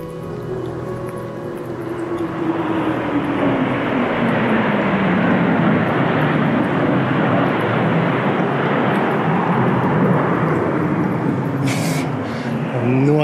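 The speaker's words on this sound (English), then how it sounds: "it sounded like some sort of jet fighter" A jet fighter roars overhead above a rainy forest, a broad sustained rumble that swells over several seconds and stays loud throughout, with a falling whine as it passes and no speech.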